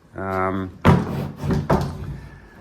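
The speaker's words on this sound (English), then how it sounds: "that's the door to the laundry. I'll just pop that open" A laundry room door in a historic house's basement is pulled open with two quick wooden thumps and rattles, right after a brief spoken word nearby.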